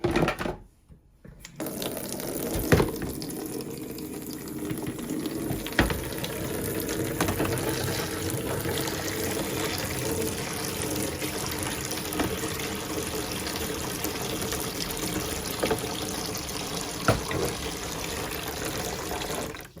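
Running warm water pours steadily from a tap into a filling basin to soak yarn for dyeing, a continuous rushing hiss with occasional small clinks, after a brief quiet start.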